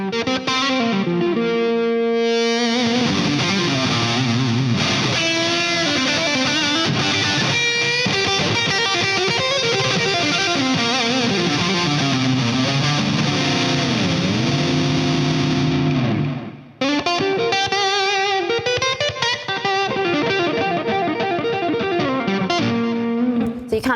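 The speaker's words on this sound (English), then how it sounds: "I always like to set the gain setting pretty high on my amp" Electric guitar played through a high-gain amp with heavy distortion, loud and sustained, with bending melodic lines and chords that cut off briefly near the end before resuming.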